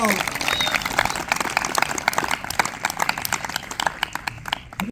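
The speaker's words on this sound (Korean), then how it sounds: "박수 감사합니다" Audience applause at the opening of a 2025 pastors' football tournament, a dense spread of claps that runs the whole time under an amplified announcer's voice.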